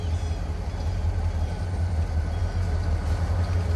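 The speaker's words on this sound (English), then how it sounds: "Here comes the train over this bridge behind me" Eastbound empty rock train with grain cars rolling over a bridge, a constant deep rumble at even loudness with no voices.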